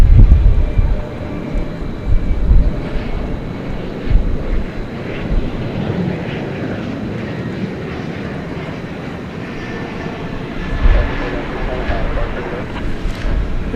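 A jet departing DFW Airport at night for Stillwater, Oklahoma gives a broad, distant roar that swells and eases in waves, with wind buffeting the microphone and faint voices underneath.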